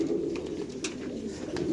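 Male racer pigeons coo together in a loft, a continuous low warbling murmur, fairly close, with a few sharper clicks scattered through.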